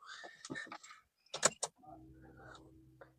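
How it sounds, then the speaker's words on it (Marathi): A car engine starts after some brief clicks and a thump, then settles into a low, steady idle rumble that continues to the end, heard close by. "आता आपल्याला गाडी स्टार्ट करून हे करा"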